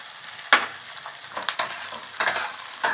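Tomatoes going into hot oil for a mushroom curry, with a steady frying sizzle broken by several sharp stirring scrapes and clatters, close up and with no talk.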